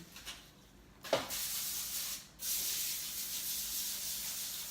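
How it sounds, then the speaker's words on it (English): Short hissing bursts of cooking spray from an aerosol can onto a tray, one brief spurt then a longer steady spray, close by with no talking. "Yeah, get it sprayed."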